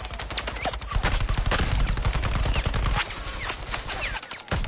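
Sustained heavy gunfire in the video game Suicide Squad: Kill the Justice League, loud rapid automatic bursts rattling almost nonstop for several seconds, with a brief dip near the end.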